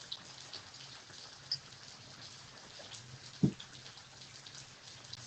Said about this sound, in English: the rain kind of is subsiding a little bit